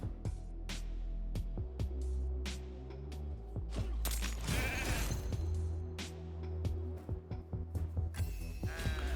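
Sheep bleats triggered by a polymorph-style ability in a live arena video game match, several short bleats scattered over a busy layer of game effects and music, fairly quiet overall.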